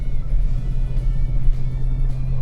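A supercharged Ford F-150 race truck, lowered and on Brembo brakes, accelerates down a straightaway with a loud, steady low engine drone and rising rumble, heard close from inside the cab.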